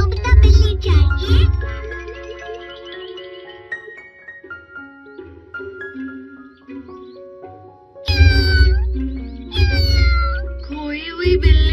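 A cartoon cat meows repeatedly in high, plaintive cries, with musical tones and short bursts of other sounds in between and a louder cluster of meows near the end.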